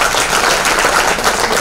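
Applause from an audience at a Rotary Club installation ceremony, a dense, loud, continuous burst of many hands clapping at once.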